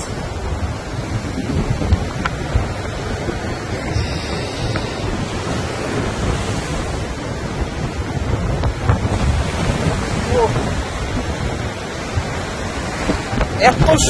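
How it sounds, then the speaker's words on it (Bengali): Sea waves roar and wash onto the shore at Shahporir Dwip island near Teknaf, a loud continuous surf with heavy wind buffeting the microphone throughout. "মানে সেটার সাথে হচ্ছে এই যে সাগরের গর্জন"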